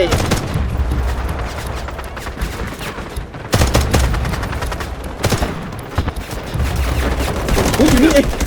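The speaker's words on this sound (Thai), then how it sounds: "ก็ว่าได้ยินเสียงปืนใกล้ๆ" Bursts of rapid gunfire crackle close by in the video game Delta Force, with dense volleys running almost continuously and a brief pause partway through.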